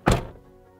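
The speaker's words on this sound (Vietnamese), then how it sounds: "nhìn cái cửa nó dày cộp nhá, đóng cái cửa này." The thick door of a Skoda Karoq shuts with a single solid, heavy thunk, close up, with a short damped decay.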